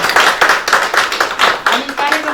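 An audience at a cooperative society's annual general meeting claps in a quick, uneven rhythm of separate slaps, close and loud, lasting a couple of seconds.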